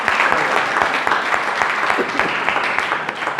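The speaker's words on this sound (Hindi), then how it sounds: "आपकी भरपूर तालियों में।" Applause from an audience at an inclusive gathering in a church, steady dense clapping that holds at an even level throughout.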